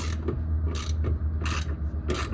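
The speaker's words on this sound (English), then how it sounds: "we're going to take the two 14mm bolts out of the transmission itself" A hand ratchet removes the 14mm transmission bolts on a Toyota AE86 with a 4A-C engine, giving four or five short, bright bursts of clicking at a steady pace against a constant low hum.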